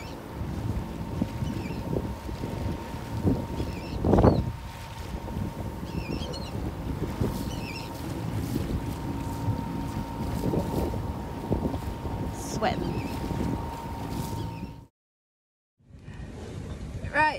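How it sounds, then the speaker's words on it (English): A sailboat heading through choppy sea in cold, gusty weather, with steady wind rumble and water wash throughout, a brief louder splash or gust near the start, and a short dropout before it resumes. "are sailing in pretty choppy conditions"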